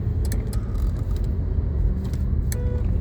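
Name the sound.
car with automatic robotic clutch driving after shifting to third gear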